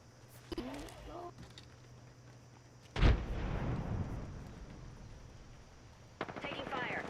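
Gunfire in the video game Apex Legends comes in sudden loud blasts with booming low rumble, one heavy burst in the middle and another near the end, mixed with quieter game effects and background noise.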